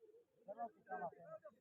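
Racing pigeons coo softly in short, low, burbling phrases, faint and close, with a few quick pauses between the calls.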